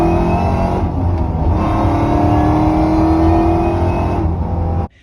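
The engine of a supercharged New Edge Ford Mustang GT revs hard and close, its sustained roar carrying a rising supercharger whine. The sound holds loud for about five seconds before cutting off abruptly.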